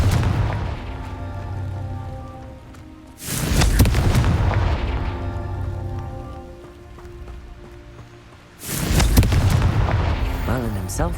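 The Confringo explosion spell in the game Hogwarts Legacy: two heavy, booming blasts several seconds apart, each with a crackling, rain-like tail, above a murky rumbling background.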